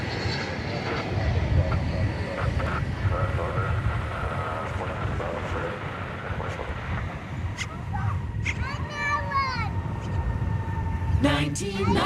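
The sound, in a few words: MD-11 aircraft arriving at DFW Airport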